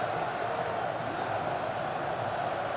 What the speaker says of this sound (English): Being egged on by the crowd.